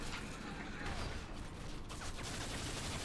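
Dense gunfire in the Modern Warfare 3 shooter game, a continuous loud barrage of rapid shots with no pauses throughout.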